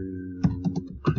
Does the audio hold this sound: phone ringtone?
no